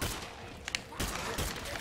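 A few sharp bursts of gunfire in the video game State of Decay 2 crack out in quick succession against a noisy background, with no talking.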